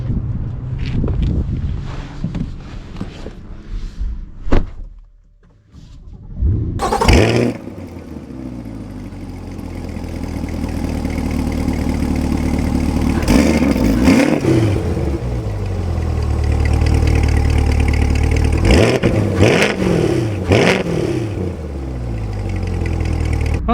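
A new Chevy Corvette goes quiet, then fires up with a loud, close roar and settles into a rumble before climbing through several rising revs as it accelerates away.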